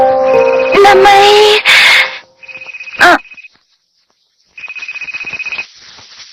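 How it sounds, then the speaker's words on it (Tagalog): A cellphone ringtone chimes in bright, repeating electronic tones, cut through by a loud burst of other sound, then goes quiet before the ringing resumes. "cellphone mo yun?"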